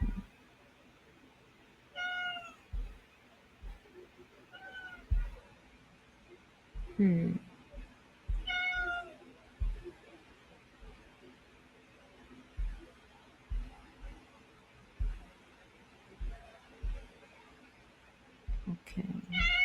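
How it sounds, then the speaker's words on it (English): A cat meows about four times, fairly close and distinct, spaced a few seconds apart, with people talking softly between the calls and quiet thumps in the background. "That's the cat."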